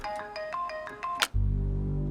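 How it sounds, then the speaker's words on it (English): A phone rings with a repeating electronic ringtone of short melodic tones, then cuts off into a low steady hum as the call is picked up. "John Brennan receives a weird phone call"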